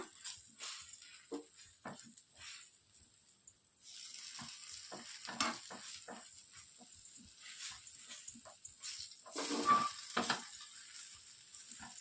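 A masala dosa spread with onion chutney cooks on one side only on a hot griddle, giving a steady soft sizzle with scattered crackles and scraping stir-like touches, close and fairly quiet throughout.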